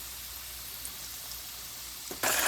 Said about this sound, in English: They are really sizzling.